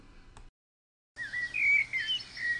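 Birds chirp and tweet outdoors on a sunny day, a burst of bright warbling song rising after a brief silence, fairly close and clear over a faint background.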